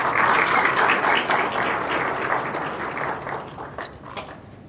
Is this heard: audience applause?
yes